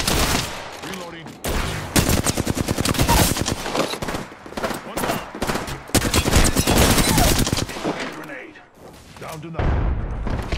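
Video game gunfire in Apex Legends comes as loud, rapid automatic bursts and repeated volleys across the whole stretch, with short lulls between firefights and some mixed-in game voice chatter.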